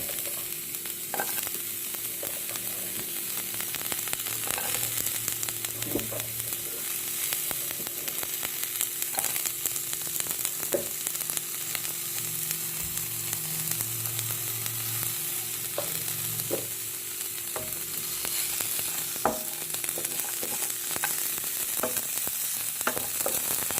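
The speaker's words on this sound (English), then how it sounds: "when we fry the garlic, doesn't require oil" Garlic dry-frying in a pan with no oil for a mushroom dish, crackling in a soft, continuous sizzle with occasional stirring clicks and scrapes close by, over a faint steady hum.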